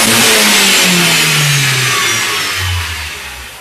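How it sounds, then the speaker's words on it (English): A car engine pulls hard through a full wide open throttle test, its revs climbing loudly and steadily as the pitch rises. It is close and dominant, then eases slightly toward the end, with no talking. "conduct a full wide open throttle test"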